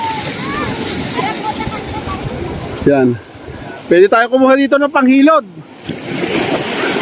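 Surf rushes and washes steadily at high tide on an island beach in Zambales, Philippines, while people talk over it, with wind buffeting the microphone.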